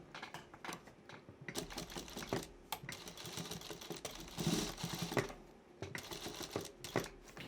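A sewing machine runs in quiet, rapid bursts with short pauses as it stitches a strap onto the edge of a cloth shopping bag.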